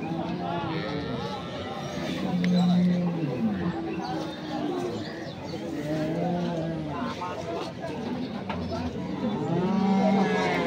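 Cattle, including bullocks, moo repeatedly at a busy livestock market in Ambari, Dinajpur, with several drawn-out lowing calls over a constant murmur of people talking nearby.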